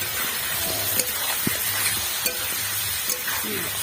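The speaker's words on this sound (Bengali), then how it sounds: "এবার পেঁয়াজ দিয়ে দেবো পেঁয়াজ কুচি" Chopped onion frying in hot oil gives a steady, close sizzling hiss with faint clinks of a utensil, no talking over it.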